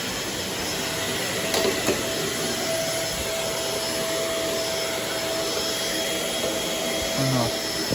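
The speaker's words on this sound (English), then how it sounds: "I'm gonna go ahead and vacuum the rugs now" A Shark Navigator Swivel vacuum cleaner runs on rugs in a basement with a continuous, close, steady motor drone and airflow hiss, holding an even level throughout.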